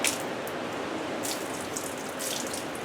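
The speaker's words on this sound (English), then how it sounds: "Push that water out." Water gushes out of a classic Ford Mustang 302 V8 engine being torn down, a steady close splashing stream with a few sharper spurts and drips over the flow.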